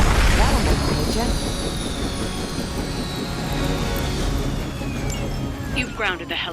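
A helicopter whirs and roars steadily in the superhero game Marvel's Midnight Suns, loud and close throughout, with a voice speaking over the engine noise.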